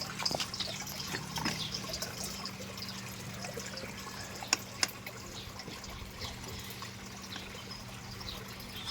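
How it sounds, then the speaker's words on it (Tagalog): An irrigation water pump runs to water a lettuce patch in the early morning, giving a steady, continuous flow of splashing and trickling water throughout, with a low hum underneath and a couple of brief clicks midway. "So naka-andar yung pump natin"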